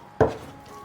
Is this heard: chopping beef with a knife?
yes